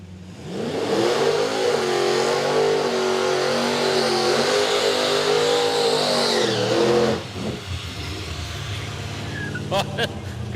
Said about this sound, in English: Good skid to finish off the night too